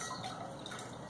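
Brief trickling and gurgling of liquid poured through a funnel in a chemiluminescence lab, soft and close, with no talk over it.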